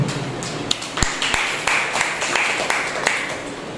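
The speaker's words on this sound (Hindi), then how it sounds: "उनके लिए जो तालियां हो जाए।" A church congregation at a Sunday service breaks into applause, a fairly loud, steady spread of many hands clapping with a few sharper claps standing out, and some murmuring beneath.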